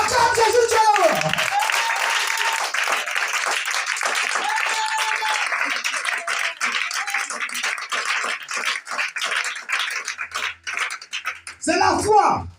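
Church congregation applauding and acclaiming Jesus, steady clapping and cheering under a loud preacher's voice, with speech continuing over the crowd noise.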